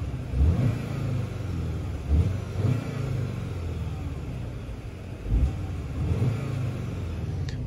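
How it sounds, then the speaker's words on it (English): A 2021 Škoda Octavia RS engine idles with a low rumble, then revs up in several short bursts, each rising sharply before falling back, clear and close. "And now, revs."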